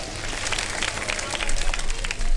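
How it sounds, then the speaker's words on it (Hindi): A studio audience at a televised iftar show claps energetically in a dense, continuous burst that swells slightly toward the end. "जबरदस्त तालियां होनी चाहिए।"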